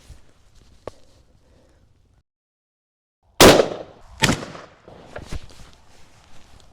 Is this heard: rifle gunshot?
yes